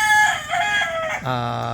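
A rooster crows once, close and clear, its call rising and then stretching into a long wavering final note.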